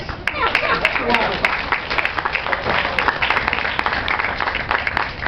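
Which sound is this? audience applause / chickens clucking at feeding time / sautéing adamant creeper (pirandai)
audience applause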